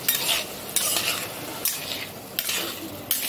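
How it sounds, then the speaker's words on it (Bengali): Prawns sauté in oil in a pan, sizzling steadily up close, and a spoon scrapes through them in regular stirring strokes about every second. "মাছটা আমি এখন সুন্দর করে কষিয়ে নেব"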